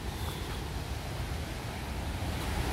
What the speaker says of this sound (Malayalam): പക്ഷേ ഇതിൻ്റെ ഒരു ടോട്ടൽ നോക്കുമ്പോൾ നല്ല വീതിയിലാണ് വെള്ളം വന്ന് വീഴുന്നത്